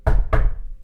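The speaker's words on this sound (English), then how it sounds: "Knock on wood." Two sharp knocks on wood, close and distinct, about a quarter second apart, each ringing off briefly, with no voices.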